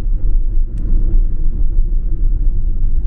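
A Mercedes Vito van drives along a road past a village, its steady low engine rumble and road noise continuous and close throughout, with no talking.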